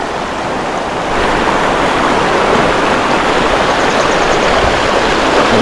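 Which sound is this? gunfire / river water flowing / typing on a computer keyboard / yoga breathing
river water flowing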